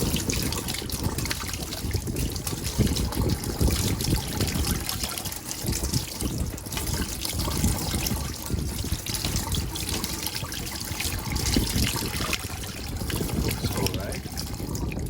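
Salted, pepper-preserved meat washed under running water in a Thai botanical garden, a continuous close trickle and splash of water throughout, with a voice talking over it.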